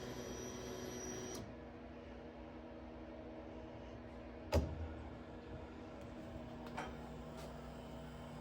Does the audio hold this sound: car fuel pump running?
yes